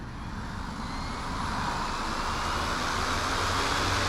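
An OMP M2 EVO RC helicopter motor spools up in acro mode, a steady broadband whir with a faint rising whine that swells slightly louder over the few seconds, heard continuously with no voices.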